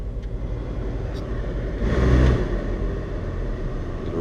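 A VW Jetta's blower motor runs after a resistor repair, giving a steady low rumbling hum inside the car that swells briefly midway before settling back.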